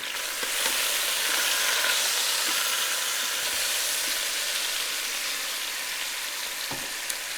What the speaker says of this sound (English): So just let it continue to sear.